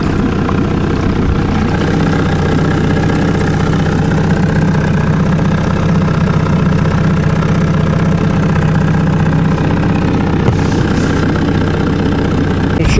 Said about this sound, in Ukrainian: попробуємо, як вона на глісер виходить, ця лодочка на цьому моторі